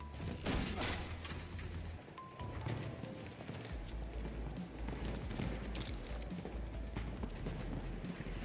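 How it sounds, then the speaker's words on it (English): Rapid weapon fire in a Battlefield 1 match, a steady, dense clatter of shots with thuds and a low rumbling bed running throughout, loud and continuous with no speech over it. "I cannot see the enemy when I start firing this weapon"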